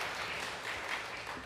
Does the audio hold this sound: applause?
yes